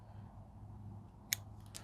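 Scissors snip through an LED light strip from an RV awning at a copper cut junction, giving one sharp, close click near the end, with a fainter snip after it over a low steady hum.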